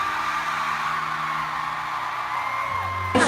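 A concert crowd yells, whoops and cheers in a steady, loud roar that swells again sharply near the end.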